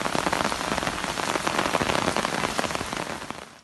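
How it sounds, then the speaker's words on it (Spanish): Light rain falls at night, a dense, steady patter of drops on surfaces that holds evenly throughout and fades slightly at the very end, with no voices. "acompañada de un poco de lluvia."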